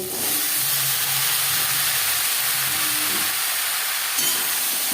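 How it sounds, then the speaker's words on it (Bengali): Bottle gourd goes into a hot tempering of cumin and green chillies for a fish-head curry, raising a loud, continuous, close hissing sizzle that holds steady throughout. "জিরের সাথে লঙ্কা ভেজে নিয়েছি এবার দিয়ে দেবো লাউ"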